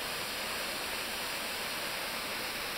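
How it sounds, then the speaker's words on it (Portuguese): A waterfall drops over a rock ledge into a large natural pool, giving a steady, even broadband rush of falling water that holds unchanged throughout, close and fairly quiet, with no voices. "esse desnível da pedra aí criou essa cachoeira muito bonita"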